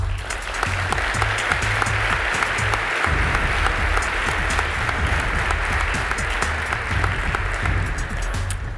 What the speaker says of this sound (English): she deserves the applaud of this audience